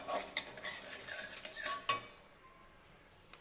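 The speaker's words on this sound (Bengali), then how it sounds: "ভালোভাবে কিশমিশটা একটুখানি ভেজে নেব, হালকাভাবে ভালোভাবে ভেজে নেব" Raisins are fried lightly in a pan for simui payesh, with quiet sizzling and a run of spoon scrapes and clinks against the metal that fade toward the end.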